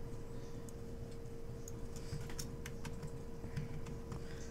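Several computer keyboard keys are tapped in a scattered, irregular series of crisp, close clicks over a constant low electrical hum, with no one talking.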